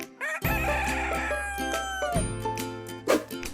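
Grey Broiler chickens on a farm early in the morning, a rooster crowing loudly and up close in a drawn-out call, followed by clucking and a short squawk, with no voices present.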